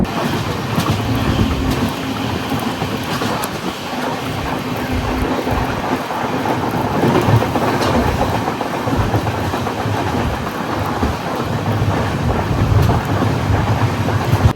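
Karwar Express train running through the monsoon Sakleshpur ghats, a steady loud rumble of wheels on rails with faint clickety-clack over nearly fifteen seconds, with no talk.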